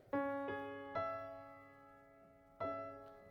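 A piano plays a few struck notes that ring together as a sustained chord, with a fresh strike near the end; quiet and clear.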